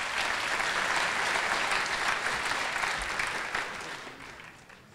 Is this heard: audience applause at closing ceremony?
yes